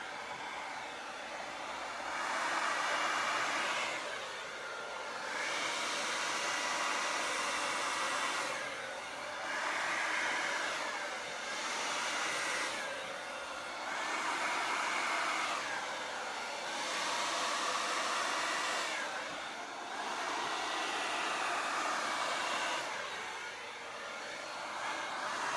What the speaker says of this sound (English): So I got my hair dryer on low.